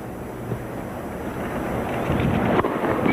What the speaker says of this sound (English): on a windy day like this